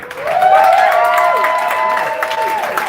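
Audience applause for a band at a live show at Steel Toe's 8th anniversary, steady for about three seconds, with sustained whistles and ringing tones riding over the clapping.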